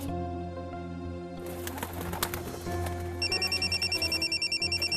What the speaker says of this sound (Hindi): फिर कॉल आ रही।